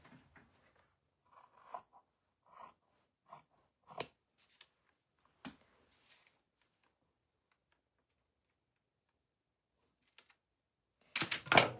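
Scissors cut thrift store decor material in a series of short, quiet snips spread over several seconds, followed by a long silent stretch and a brief louder rustle at the end.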